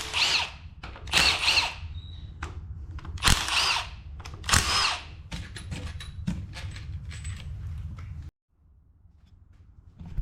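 A pneumatic impact gun rips half-inch bolts out of an engine from an Allan Moffat barn-find restoration car, firing in several sharp, loud bursts with short gaps between them, then a pause of quiet at the end.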